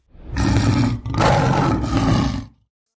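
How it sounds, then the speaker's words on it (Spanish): A lion's deep roar fills the air twice in close succession, loud and near, a long rumbling growl that breaks briefly before surging again and fading out. "el león,"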